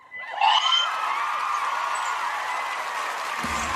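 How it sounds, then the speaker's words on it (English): An audience gives a round of applause, a dense steady wash of clapping that swells quickly and holds at moderate level, with a faint whoop near the start. "A round of applause for everyone today"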